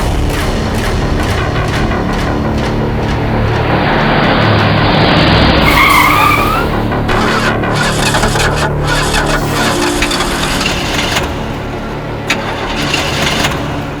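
A car on a road in stormy weather skids with a loud, close tire squeal and roaring, straining engine that swells midway, then sputters and falters as the vehicle breaks down.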